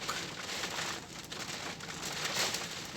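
Steady, faint hiss of rain pattering on a surface at night amid strong wind, continuous and even throughout with no other clear sounds.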